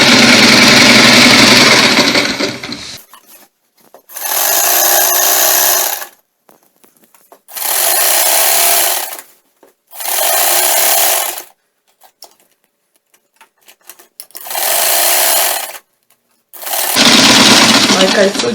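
A sewing machine stitching a pencil skirt seam with matching thread, running in five separate bursts of steady motorised whirring, each a second or two long with quiet pauses between, close and loud, with talking at the start and end.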